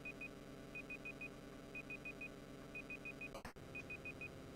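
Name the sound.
annoying beeping noise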